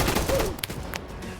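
Gunfire from a video game gunfight, a dense burst of shots at the start that thins into a few sharp isolated cracks, loud and close, with no voices over it.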